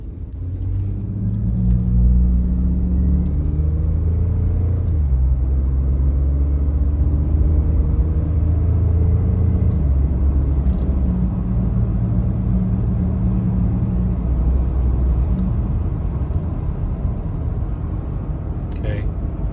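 Low, continuous engine rumble comes from a Ford F-150 3.5L EcoBoost truck with a catalyst efficiency fault as it accelerates again. Shifting tonal drones rise and fall over steady road noise for most of the run, with no talking heard.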